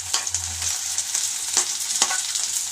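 Ginger, garlic, green chili paste and onions fry in hot oil for a veg Manchurian, a steady close sizzle with scraping stirs breaking through every second or so.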